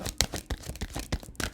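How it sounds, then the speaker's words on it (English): Tarot cards being shuffled by hand in quick, close riffling bursts, a few brisk papery strokes in a row. "I'm gonna shuffle a little differently."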